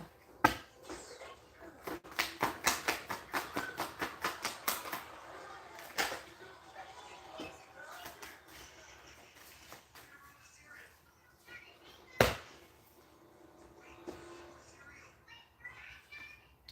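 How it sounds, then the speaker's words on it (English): Tarot cards being shuffled in a reading: a quick run of crisp riffling flicks at the start, then scattered taps and card snaps, close and fairly quiet, with faint voices in the background. "Last shuffle."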